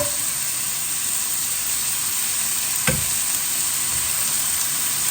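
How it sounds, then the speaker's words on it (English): Cooked rice dropped into a hot pan for chicken and shrimp fried rice, giving a loud, continuous close sizzle with a single sharp knock near the middle and no talking. "in goes the rice"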